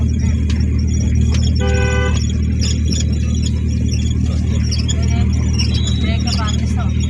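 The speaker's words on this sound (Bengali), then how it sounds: "সব পিছনে গাড়ি আসছে" On a road, a car comes up from behind and sounds a short horn toot over constant loud road and engine noise, with faint further horn blips later.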